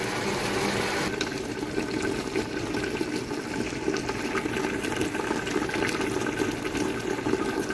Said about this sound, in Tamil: இப்போ எட்டு கிளாஸ் தண்ணி ஊற்றணும்